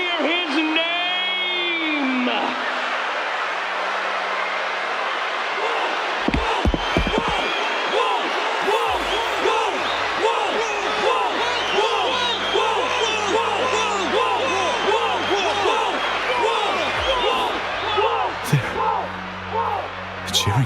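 An arena crowd roars and cheers for a fighter in a tournament, a dense, loud, sustained wall of many voices with shouts and whoops, layered with voices speaking over it.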